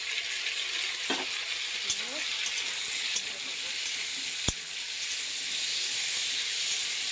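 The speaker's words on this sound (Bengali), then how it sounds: "ভালো করে কষবো" Spice paste, chopped tomato and potatoes fry in hot oil for a rohu fish curry, a continuous loud sizzle and hiss with occasional light scrapes and taps of a spoon.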